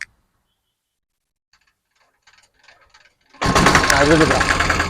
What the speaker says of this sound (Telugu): ఇప్పుడు ఒకసారి బండి స్టార్ట్ చేస్తారు